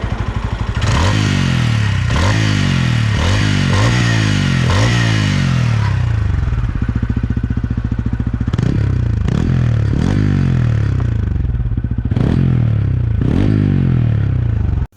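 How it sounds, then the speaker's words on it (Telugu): A TVS Ronin motorcycle's refined engine and exhaust note, loud and close, revving repeatedly in sharp rising bursts with gear changes, then settling into a steady throbbing idle between further throttle blips. "ఇంజన్ చాలా రిఫైన్డ్ గా అనిపించింది. అండ్ ఎగ్జాస్ట్ నోట్ అయితే just time fall in love guys"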